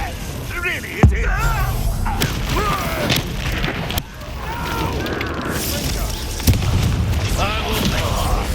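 Confringo fire spells from Hogwarts Legacy burst against a continuous combat din, a few sharp booming impacts at intervals while voices speak over the action.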